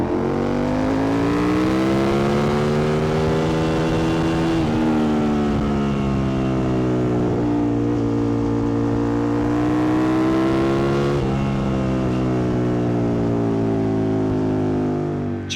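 An Aprilia Tuono 1000 naked motorcycle pulls hard in second gear on a country B road, its engine note climbing steadily through two upshift-like dips, loud and continuous with no talk.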